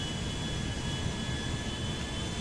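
An Air France airliner's jet engines in a flight game rumble at a steady roar, with a thin high whine running through the constant wash of noise.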